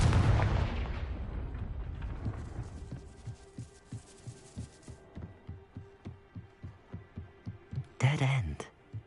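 A fiery Confringo spell blast in the video game Hogwarts Legacy booms out loud and decays. A steady run of rhythmic thuds follows, then another sharp burst near the end.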